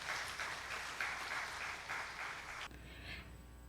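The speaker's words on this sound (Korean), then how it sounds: "박수로 맞이해 주십시오." An audience in a church gives steady applause at a Wednesday worship service, dense and moderately distant, fading abruptly to a quieter room tone near the end.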